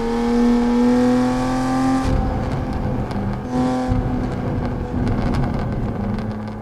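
Racing sim car engine droning steadily through a tunnel, a loud sustained tone that drops in pitch partway through as if shifting, then climbs and holds again, with no talk over it.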